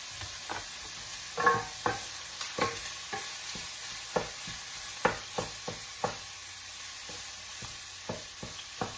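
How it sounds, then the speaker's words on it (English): Bacon and sausage fry together in a pan for a Zuppa Toscana soup, a faint steady sizzle under a regular series of soft scraping and tapping stirs, with no voices. "We have the bacon cooking. And we have our sausage cooking as well."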